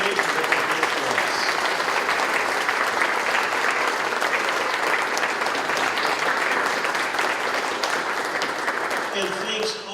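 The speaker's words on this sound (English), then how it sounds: "give these people a nice hand of applause" An audience at a Polish Constitution Day gathering claps steadily and loudly for the full stretch, a dense, even wash of applause that eases slightly near the end.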